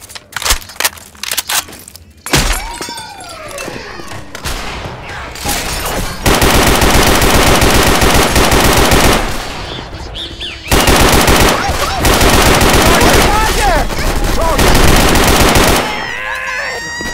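Rifle gunfire in the zombie shooter Left 4 Dead 2, loud sustained automatic bursts with short pauses between volleys, early single shots and clatter, and game character voices calling out between the shooting.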